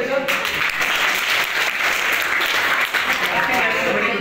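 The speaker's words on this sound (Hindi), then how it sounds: "इसलिए तालियां बजाओ।" Children clapping together in a classroom, a dense, steady burst of applause lasting a few seconds while a voice speaks over it.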